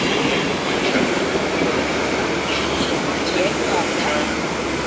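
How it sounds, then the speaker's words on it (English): Greater Anglia intercity train with Mark III coaches, led by 82132, passing steadily on the London Liverpool Street to Norwich line, giving a loud, continuous rumble with faint wheel clatter. "It's going to be the 41503 Greater Anglia service to Norwich from London Liverpool Street."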